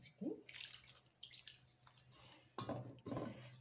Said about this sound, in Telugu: ఇప్పుడు మనం వాటర్ వేసి కలుపుకుందాం